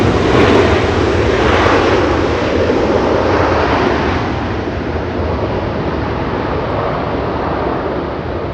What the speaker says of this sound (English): Little E175 speeding by.